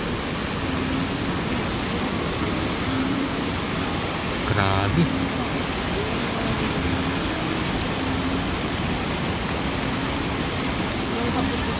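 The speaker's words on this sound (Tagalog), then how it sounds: "Hindi siya makakaahon dahil napakalakas ng agos ng tubig." A strong river current of rushing, muddy yellow water at a collapsed bridge makes a dense, loud, steady roar throughout, with a person speaking briefly under the noise.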